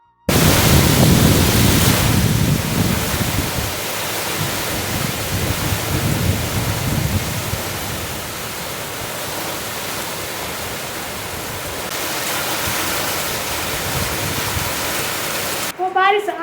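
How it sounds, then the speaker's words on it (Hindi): Heavy rain pours steadily in a hilly mountain setting, a dense continuous roar that swells and eases slightly over its length, with no voices. "बारिश आखिर आज लग ही गई है"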